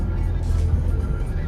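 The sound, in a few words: car passing by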